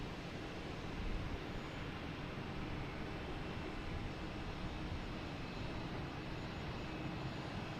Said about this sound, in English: we got JetBlue and A220 coming in from Savannah